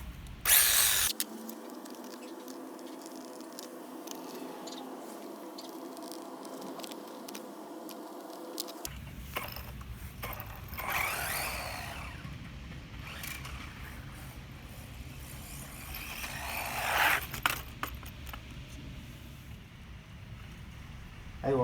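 A WLtoys 20402 Pocket X-Maxx RC car driving at maximum speed, a whining electric motor and drivetrain buzz that surges and fades over about twenty seconds, with rolling rumble and no talk.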